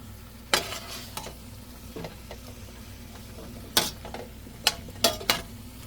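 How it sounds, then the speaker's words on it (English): Leftover mixed vegetables and marinated chicken cooking in a pan, with a low steady sizzle under a handful of sharp clinks and scrapes of a utensil stirring, spaced irregularly and close by. "I cook all my leftover vegetable."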